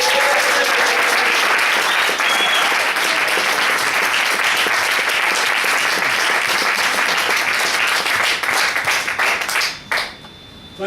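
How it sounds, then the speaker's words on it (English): A warm round of audience applause greets an evening event's chairperson, a full and sustained burst of many hands clapping that runs on for about ten seconds before fading out abruptly. "So can we please give another warm round of applause to Jean Taverner."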